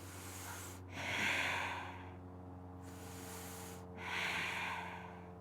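Two long, breathy exhales during a core workout, each swelling then fading over a steady low hum, with a quiet pause between them.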